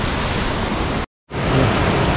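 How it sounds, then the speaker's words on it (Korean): A large waterfall in a Seoraksan mountain valley roars with a dense, even rush of falling water. The sound breaks off to silence for a moment and then starts again at the same strength. "또 폭포고요."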